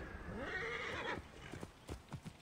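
A horse in Assassin's Creed Origins whinnies in a long rising-and-falling neigh, followed by a few hollow hoof clops.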